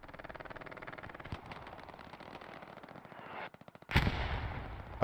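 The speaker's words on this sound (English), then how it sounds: "Artillery still falling, is it?" Gunfire in the World War II video game Hell Let Loose, with rapid machine-gun bursts rattling steadily and then a heavy artillery blast booming loudly near the end.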